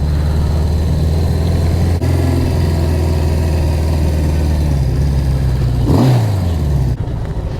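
Several motorcycle engines idle steadily with a deep, continuous low rumble outside a biker bar in Benidorm, Spain; one bike briefly revs or passes close by near the end before the engine noise settles again.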